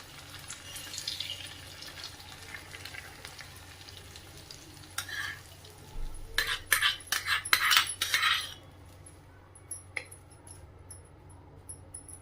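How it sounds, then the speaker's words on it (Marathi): Hot tempering of green chillies, curry leaves and sesame seeds poured over steamed besan dhokla, a sudden loud sizzle and crackle that bursts out midway, fades into a softer hiss, then tapers off with light stirring. "कढीपत्ता, थोडेसे तीळ आणि हा सुरसुरीत तडका आपण ढोकळ्यावर टाकूया"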